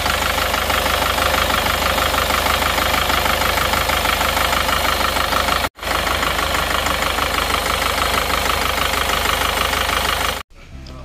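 An Isuzu Panther diesel engine with an oily dipstick and smoking runs rough, its steady loud drone carrying a rapid rhythmic tak-tak knock close up, with two brief dropouts.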